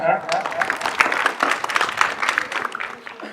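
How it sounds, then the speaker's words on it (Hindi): Audience at a youth organisation's quiz competition claps in a brief burst of irregular applause, fairly close, with voices talking over the clapping. "तालियां बजाकर"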